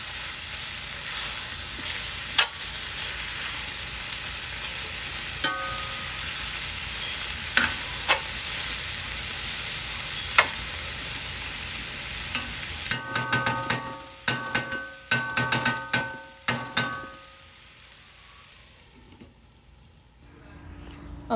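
Fried cabbage hisses and sizzles steadily in a pan while being stirred, with scraping clicks of the utensil growing sharper near the end before the frying fades quieter.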